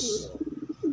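A nearby pigeon gives a quick run of pulsing, throaty coos, ending on a drawn-out rising note, fairly soft and alone.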